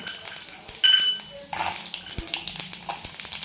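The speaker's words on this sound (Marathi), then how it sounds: "चांगले एकदम शेंगदाणे एकदम तडकू देणार आहेत" Raw peanuts fry in a cumin tempering, giving a steady crackling sizzle with occasional clinks of a spoon or pan, close and moderately loud.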